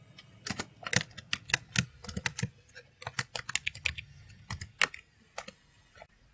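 Clicky keystrokes on a computer keyboard while renaming a file, an irregular run of close, crisp taps with short pauses, quiet room otherwise.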